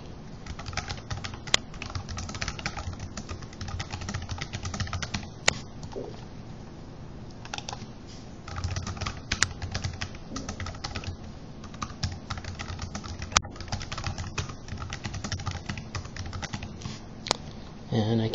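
Someone types on a computer keyboard in quick, irregular bursts of soft clicks with short pauses, occasional sharper key strikes standing out, close and alone.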